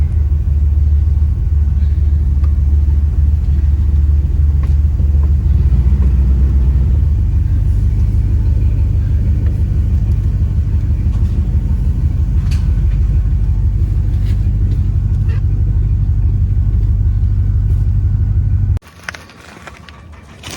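A Ford Maverick truck drives with its engine running steadily and shifting gears, a loud continuous rumble close by that cuts off near the end.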